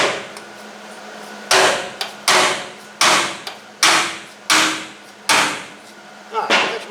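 A big hammer strikes the frame of a 1970 Cougar, landing seven loud, sharp metallic blows at a fairly steady pace, each ringing briefly before fading back to a low background hum.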